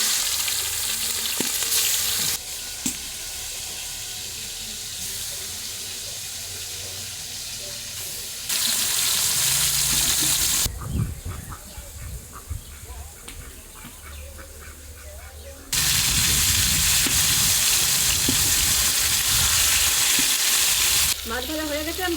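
Lobster pieces frying in hot oil give a loud, steady close-up sizzle that surges and drops in level across several stretches, with occasional stirring scrapes mixed in.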